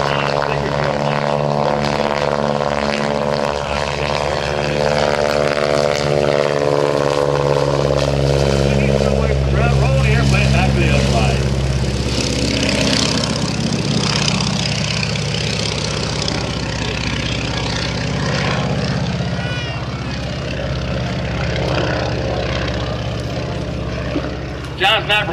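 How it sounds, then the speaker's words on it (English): A stock-seat aerobatic propeller airplane flown by John Mohr at the 2010 New Garden Airshow drones steadily, its engine pitch rising and falling as it maneuvers, while an announcer talks over it. "Fully capable, non-stop, hardcore aerobatic airplanes."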